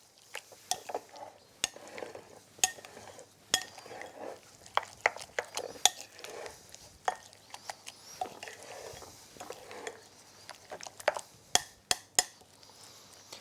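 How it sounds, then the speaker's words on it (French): Tzatziki mixed by hand in a bowl, soft wet stirring with scattered clinks and taps of a utensil against the bowl, close and quiet with no talking. "Voilà, on presse bien. On va mélanger."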